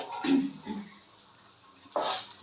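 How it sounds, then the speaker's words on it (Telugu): Fried fish pieces are lifted from a pan onto a plate, giving a few soft metallic scrapes and clinks, close by with quiet pauses between them. "ఫ్రై అయిన ముక్కలు తీసుకోవాలి ప్లేట్లోకి."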